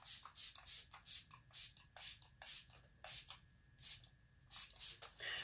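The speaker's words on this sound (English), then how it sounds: "I'm spraying it from so far away. And I'm getting a light mist." Rose-scented MAC Prep and Prime face mist sprayed from a distance in a series of short, soft hissing pumps in a quick irregular rhythm, close and fairly quiet, with no talking.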